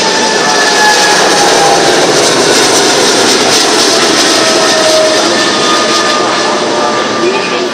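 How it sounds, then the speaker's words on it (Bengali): A passenger airplane on the runway taking off, heard as a loud, sustained engine roar that fills the whole span without letting up. "দেখতে পাচ্ছেন এই যে বিমানটি ইতিমধ্যে রানওয়েতে এসেছে এবং আকাশে"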